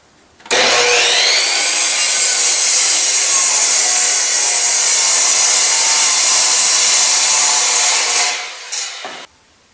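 Saw cutting a wooden turkey call blank to a 4-inch length: a loud, continuous power-saw whine through wood, close and steady for about eight seconds before tapering off.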